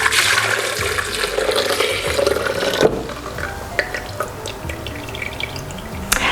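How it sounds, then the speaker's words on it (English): Creamy homemade vegan eggnog made with plant milk is poured back into a blender in a steady stream for about three seconds, followed by softer drips and small knocks. "I'm gonna pour this back into my blender now"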